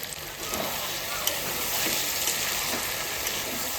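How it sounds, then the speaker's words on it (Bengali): Chicken and potatoes sauté in a hot pan for ghugni, a continuous close sizzle with faint stirring scrapes, steady and fairly loud throughout with no talking. "এবার চিকেনটা কষানো হয়ে গেছে এবার আমি আলুটা দিয়ে দেবো"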